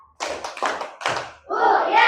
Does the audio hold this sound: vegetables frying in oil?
no